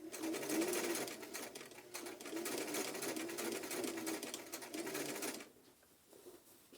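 A sewing machine stitches a fabric face mask, running steadily and loudly for about five seconds before stopping, leaving quieter handling sounds behind.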